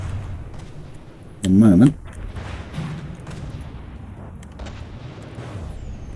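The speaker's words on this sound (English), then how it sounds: "The full volley of missiles." Missiles fire in a full volley at an airship battle in the game From the Depths, giving one loud, short blast with a rumbling low burst about a second and a half in. Low background rumble and a voice talking follow.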